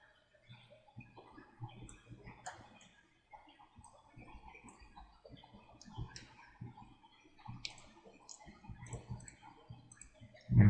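Rapid, light mouse clicks while drawing with the pen tool in Illustrator, close and faint, coming in uneven bursts over a quiet background, ending with a louder thump.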